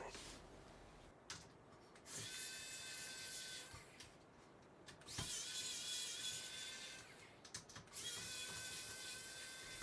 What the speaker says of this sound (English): there are just 3 more screws here that need to come out